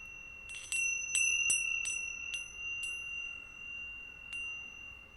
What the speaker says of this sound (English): I'm ringing these beautiful bells from Thailand